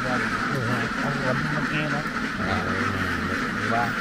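Many ducks quack repeatedly in a field in rural southern Vietnam, forming a continuous close chorus while people talk over them.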